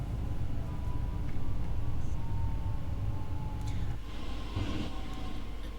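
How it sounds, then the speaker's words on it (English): In Train Sim World, a train brakes hard while entering a platform and then gradually releases, giving a steady low rumble of wheels and motors with faint squealing tones above. "Now going full brake on the entrance to the platform and then releasing it gradually."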